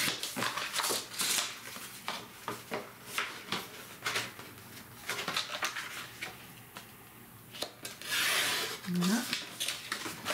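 Scissors or a blade cutting scrapbook paper pieces along a cut line, close and quiet, with repeated short crisp snips and rubbing strokes, plus some handling noise.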